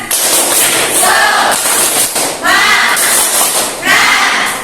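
A school class claps out the tepuk semangat chant together, with sharp bursts of hand claps in a patterned rhythm and a chorus of young voices chanting between them.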